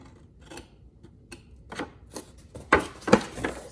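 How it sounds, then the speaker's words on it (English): Scissors snipping card while cutting out a dog house centerpiece, a series of sharp, quiet clicks and crisp snips at irregular intervals, the last few louder and closer, with no talk. "take your scissors and just snip it"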